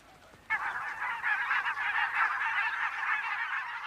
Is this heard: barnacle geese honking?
yes